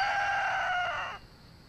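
A rooster crows once on a ranch, a clear, fairly close call lasting about a second before fading into quiet outdoor background.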